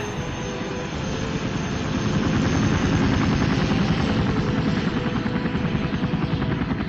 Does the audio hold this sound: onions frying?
no